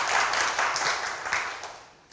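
Audience applause at a community forum on shared refrigerators, a short burst of dense clapping from a small indoor crowd that fades out toward the end.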